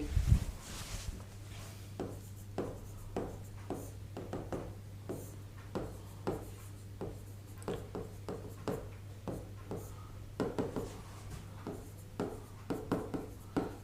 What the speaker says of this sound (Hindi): हम इस परिभाषा को लिपिबद्ध करते हैं तो हम परिभाषा में क्या लिखेंगे?